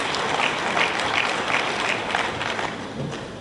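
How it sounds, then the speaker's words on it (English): Audience applause at a tax-administration gathering, a dense, steady wash of many hands clapping that fills the whole stretch at an even level with no voices over it. "Clap for ourselves."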